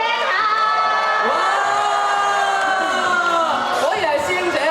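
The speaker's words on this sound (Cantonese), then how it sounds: "果然係師兄姐兩個嘅歡呼聲都非常之大啊！" A live music show audience cheers loudly, a sustained wall of high screams and shouts that holds steady for several seconds.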